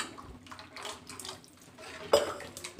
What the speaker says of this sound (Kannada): ಇವಾಗ ನೋಡಿ, 1 ಚೊಂಬಷ್ಟು ನೀರು ಹಾಕ್ಕೊಳ್ತಾ ಇದ್ದೀನಿ